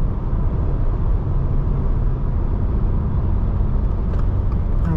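A 2024 Subaru Impreza RS cruises on the highway, heard from inside the cabin as a steady, low road and engine rumble with tire noise, constant and fairly loud throughout.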